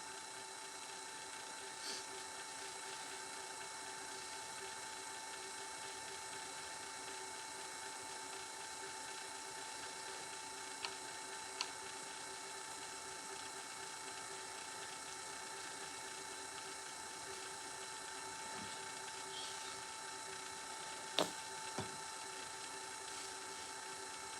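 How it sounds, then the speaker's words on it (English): A machine polisher runs a microfiber pad over a surface, giving a steady, low-level mechanical whir with a faint tonal hum throughout and a couple of brief clicks near the end. "So now we're just polishing. Just polishing with the microfiber pad."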